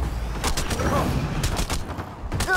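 Gunfire in Mass Effect Andromeda, rapid loud bursts of weapon shots in quick succession during a firefight, with a voice briefly audible amid the shooting.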